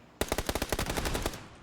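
Rapid automatic gunfire from the PUBG video game rattles off about a dozen loud, evenly spaced shots in just over a second, with no talking.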